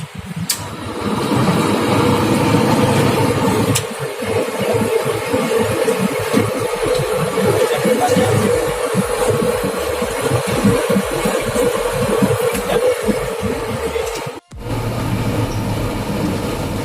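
A turbo fume scrubber switches on during a Kjeldahl crude protein digestion in a lab, giving a loud, steady mechanical roar and rush that runs for about fourteen seconds, cuts out abruptly, then resumes.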